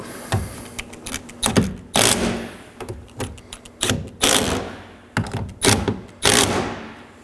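Nuts are snugged onto a side mirror of a 2013–2019 Nissan Sentra in quick bursts of power-tool whirring and ratcheting. The bursts fall close together at an uneven pace, with sharp clicky edges and no talking.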